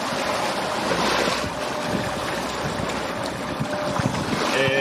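A solar-powered electric boat motors at about 3.3 knots along the Argentario coast toward Porto Santo Stefano, with a 1.2 kW motor. Wind buffets the microphone and water rushes steadily against the hull, loud and close.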